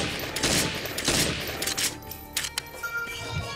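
Rapid bursts of AK-48 rifle fire in a first-person shooter game, loud and close, with sharp cracks trailing into scattered shots and echoes.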